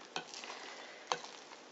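Homemade wheat sourdough starter is stirred in a jar: two short, close scraping swirls about a second apart, with quiet gaps between.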